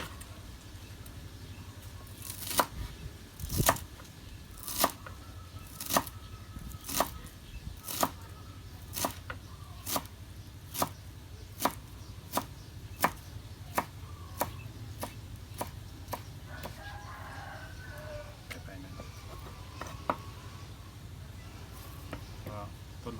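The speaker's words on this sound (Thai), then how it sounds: "นี่เราก็หั่นไปเลย" A knife chops dill steadily on a board, sharp evenly spaced strikes of moderate loudness, with a low engine hum and faint talk behind.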